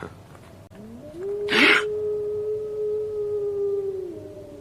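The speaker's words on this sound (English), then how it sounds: "They say it's the cry of the Hound of the Baskervilles." A long, mournful hound's howl on a moor rises and holds a steady tone for several seconds before fading, with a brief louder cry at its start, distant and eerie.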